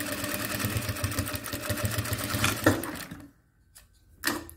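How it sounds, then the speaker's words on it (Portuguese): A domestic sewing machine runs steadily, stitching a seam in fabric for a pen-case panel, then stops briefly with faint handling noises before a short final burst of stitching. "Um pontinho pra frente, 2 pra trás e vou continuar a costura."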